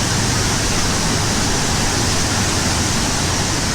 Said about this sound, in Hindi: पहाड़ में से मुसलसल भरपूर तरीके से पानी निकल रहा है